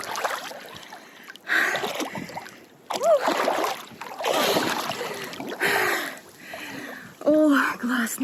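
People swim in a lake in early-season cold water, making bursts of splashing and sloshing that come and go close by, with voices talking between and over the splashes.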